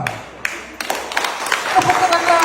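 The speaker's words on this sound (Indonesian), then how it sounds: "Tepuk tanganlah." An audience at a Parti Warisan campaign rally in Kemabong breaks into applause. Scattered claps build into steady crowd clapping beneath a speaker's amplified voice.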